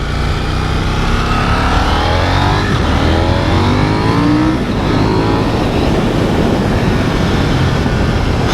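A KTM 890 Duke R motorcycle on a test ride, its engine droning loud and steady with rising and falling revs as it accelerates through gears, wind rush mixed in throughout.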